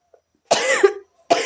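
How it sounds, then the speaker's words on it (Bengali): A person coughs twice up close, two harsh rasping bursts separated by a brief pause, with no other sound around them. "এখন প্রচণ্ড কাশি হবে।"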